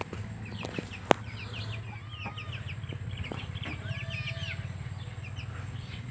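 Chickens cluck and chatter steadily close by in San Juan, Batangas, with a few sharper calls and a sudden knock partway through, over a low constant hum.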